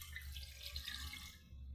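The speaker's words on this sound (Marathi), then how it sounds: "त्याच्यामध्ये 1 ग्लास पाणी ओतायचं आहे" Water poured from a glass into a pressure cooker sitting on a gas stove, a faint, steady splashing pour that runs for about two seconds with no talking.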